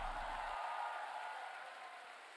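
An audience claps together in a dense, continuous burst at a motivational seminar, steady and fairly loud and easing slightly toward the end, with no voices over it.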